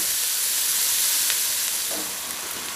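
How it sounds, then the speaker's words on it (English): Onion and salami frying in a pot give a loud, steady sizzle and hiss that eases slightly toward the end, with a faint stir near the close and nobody speaking. "onion gets a bit of colour and the salami will get a little bit of colour as well."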